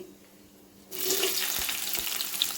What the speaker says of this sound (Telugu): ఒక స్పూన్ జీలకర్ర వేసానండి